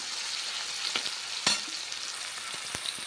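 Onion and tomato fry in a pan for ivy gourd curry, a steady hiss with a few clacks and scrapes from the stirring spoon, close and alone with no talk.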